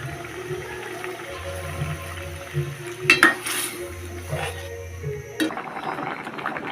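Potatoes being sautéed for a pangas fish curry: a spatula scrapes and clanks against the pan in irregular strokes, with a soft frying hiss beneath, close and loud.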